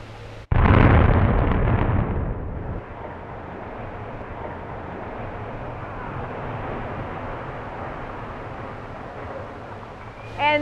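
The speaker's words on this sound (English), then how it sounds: "First explosion, then the next one at a time." Sudden loud blast as explosive charges bring down old mill smokestacks in Lawrence, a roaring rumble lasting a couple of seconds, then a long low debris rumble with faint distant crackle and a brief noise at the end.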